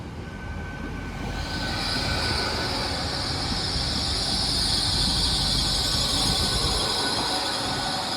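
Great Western Railway Class 800 unit arriving at a station platform, a steady loud rumble of wheels on rails with a sustained high brake or wheel squeal rising over the roar, close by throughout.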